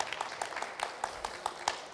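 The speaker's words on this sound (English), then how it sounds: "Again, big round of applause." A conference audience at a municipal forum applauds as a moderator is welcomed to the stage, steady claps of moderate loudness running throughout with a few sharper hand strikes standing out.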